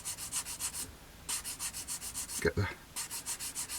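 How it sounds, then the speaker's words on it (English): A Flory dual medium sanding stick, rough side, rubbing down a seam on a Kinetic Harrier GR3 plastic model kit, making quick rhythmic close scratchy strokes in bursts with a brief pause, while a voice speaks briefly. "using a Flory Dual medium sander, using the rough side, we're just going to gently take that seam away"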